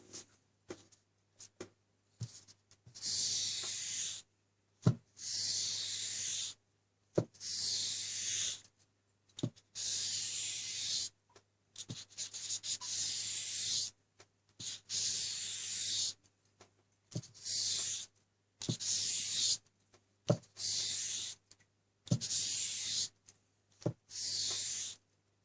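2000-grit wet/dry sandpaper rubbed along a convex knife blade in repeated strokes of about a second, a soft raspy swish alternating with short pauses, close up and with no talking.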